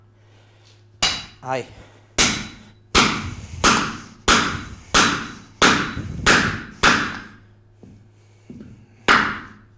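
Steady hammer blows nail a wooden form onto its centre in a woodworking shop, about ten sharp thuds in an even rhythm, close and loud, with a brief spoken word near the start.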